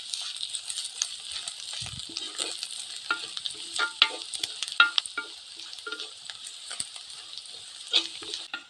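Garlic and red and green chillies sizzle and crackle in hot oil in a pan for Tamil mango rice, with steady close frying hiss, spoon stirring scrapes and occasional sharper pops, no talking.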